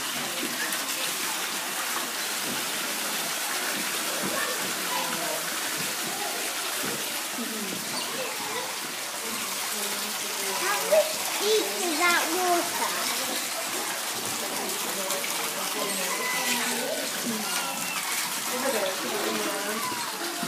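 Several otters swim and play in an outdoor pool, giving a steady wash of splashing and rippling water with scattered louder splashes throughout.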